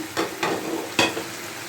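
Cashew and poppy seed paste goes into a pan of frying banana flower, followed by three short, scraping stirs over a faint sizzle.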